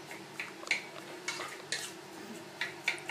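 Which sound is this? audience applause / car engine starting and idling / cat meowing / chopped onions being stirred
chopped onions being stirred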